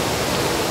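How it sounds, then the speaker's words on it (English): Water falling steadily at a waterfall inside a Las Vegas casino, a close, continuous broadband rush of splashing water with no breaks and no talk. "we're here at the lovely waterfall at the Way Casino"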